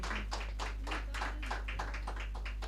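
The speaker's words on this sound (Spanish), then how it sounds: "Fuerte el aplauso a los Jaitebas del litoral." Audience applause for the group Los Jaitevas del Litoral at a folk peña, a steady run of many hands clapping in dense bursts for a few seconds, with no talk.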